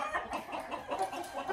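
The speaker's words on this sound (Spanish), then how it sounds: "aquí estos gallos son los que se están preparando para las próximas peleas" Fighting roosters being prepared for upcoming cockfights cluck in a series of soft, rapid calls, fairly faint and close.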